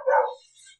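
A single short bark from a dog indoors, loud and close, fading out within under a second.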